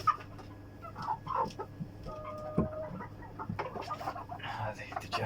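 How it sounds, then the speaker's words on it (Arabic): An Arab breed chicken clucks in soft, scattered calls at close range over steady low farm background noise, with a brief voice nearby. "هذه دجاجة عربية"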